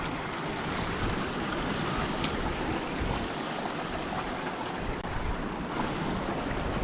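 Steady broadband rush of a river flowing at a tricky crossing on the Helm Crag walk near Grasmere in the Lake District, continuous and fairly close, with no voices.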